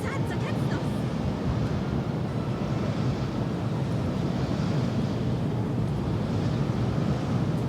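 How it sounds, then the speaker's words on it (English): A desert sandstorm in the Path of Exile 2 video game blows as a constant, even wind rush that holds steady throughout at moderate loudness. "It's very windy out here,"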